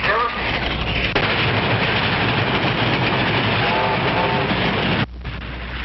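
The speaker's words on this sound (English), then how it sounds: "Bob, train about to go by." A passing train rumbles with a dense, continuous roar and rattle, loud and close, then the noise drops off abruptly near the end.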